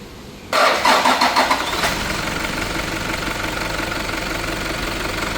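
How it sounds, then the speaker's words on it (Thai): A car engine, freshly refilled with Shell Helix HX8 motor oil, cranks briefly and catches, then settles into a steady, loud idle as it warms up, heard close with no talking. "เติมน้ำมันเครื่องใหม่เข้าไปแล้วนะครับทำการสตาร์ทเครื่องวอร์มไว้สักระยะหนึ่งครับ"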